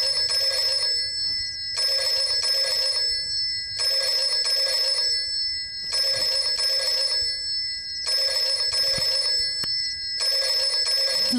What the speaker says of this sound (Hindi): तू टेलीफोन की घंटी बजा रहा है?